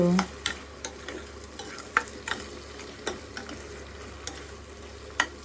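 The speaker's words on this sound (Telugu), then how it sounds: "ఈ గరం మసాలా అండ్ కొత్తిమీర వేసుకుని ఇలా తిప్పేసుకుని" Gongura prawn curry with garam masala and coriander stirred in a pan: a soft continuous sizzle with several sharp spoon scrapes and taps spaced irregularly, close and fairly quiet, without speech.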